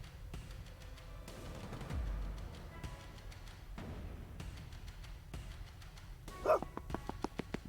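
Dog barking in the video game Tactical Breach Wizards, a series of sharp barks spaced through the scene amid game effects, with a quick run of yips near the end.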